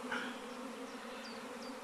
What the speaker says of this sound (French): on a un essaim qui est explosé sur toute une haie